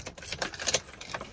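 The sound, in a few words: car keys jangling before inserting key into Toyota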